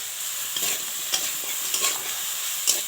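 Raw green banana pieces sizzle in hot oil in a wok, with a steady frying hiss broken by several distinct scraping stir strokes from a spatula, close and moderately loud.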